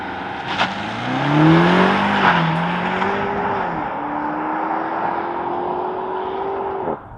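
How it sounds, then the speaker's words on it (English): A 2025 BMW Alpina XB7 with a 4.4-liter twin-turbo V8 launching under launch control, engine roaring loud and close as it pulls hard through rising revs, a gear change breaking the climb before it keeps accelerating. "The 2025 BMW Alpina XB7. With launch control."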